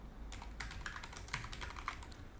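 Quick, light typing on a computer keyboard, a short run of soft irregular key clicks at low volume, close to the microphone, with no talking.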